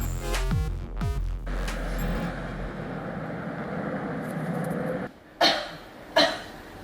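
Harsh, severe coughing comes in a rapid burst of hacking coughs, then after a wheezy breathy stretch, two more sharp, loud coughs follow near the end.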